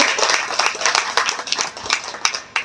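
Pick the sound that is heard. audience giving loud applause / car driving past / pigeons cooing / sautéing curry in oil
audience giving loud applause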